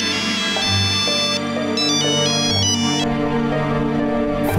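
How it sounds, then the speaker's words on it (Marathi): A mobile phone ringtone plays a loud, bright electronic melody of repeating chiming notes, continuing alone with no talk. "फोन कोणाचा आहे साकेतचा"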